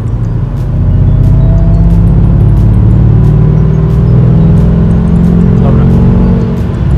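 A BMW M5 F10 accelerates in fourth gear, its engine a steady, heavy drone that climbs slowly in pitch, heard loud and close from inside the car.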